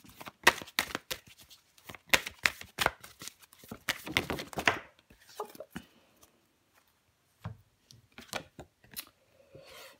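Tarot cards being shuffled and drawn, quick papery riffles and slaps close by in rapid bursts, then a pause and a few softer isolated card flicks.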